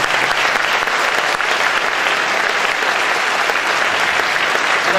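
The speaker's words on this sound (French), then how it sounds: "On peut l'applaudir parce qu'elle a beaucoup travaillé." A loud, sustained burst of applause fills the room as a crowd at a mayor's speech honours a local beauty queen, with continuous, dense clapping from many hands at a constant high level.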